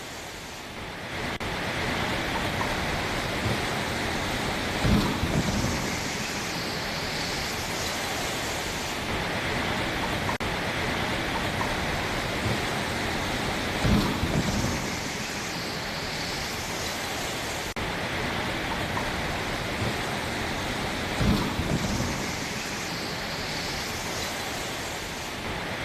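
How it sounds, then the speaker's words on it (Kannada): Heavy rain pours steadily over a Bangalore road, a dense continuous hiss that holds for the whole stretch, with a few brief louder swells roughly every nine seconds. "ಜೋರಾದ ಮಳೆ ಬಂದಿದೆ"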